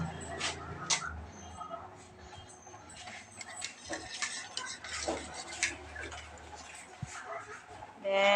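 Utensil scraping and clinking in a bowl as torta batter with salt and syrup is stirred and mixed, light irregular ticks and taps close by, with a voice talking over it.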